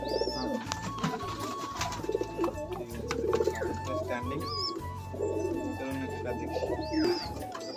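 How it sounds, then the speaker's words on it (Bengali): Two male Sialkoti Pakistani liner pigeons coo in low, repeated throaty bursts, with other birds chirping faintly around them and someone talking over the calls throughout. "শিয়ালকোট ভাই পাকিস্তানি লাইনার 35 वाला পায়রা, দুটোই মেল আছে"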